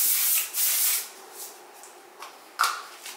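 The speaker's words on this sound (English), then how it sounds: "the mattifying waterproof setting spray" A mattifying waterproof setting spray lets out several short, breathy hissing bursts, close and fairly loud at first and then softer, with a final sharp spritz near the end.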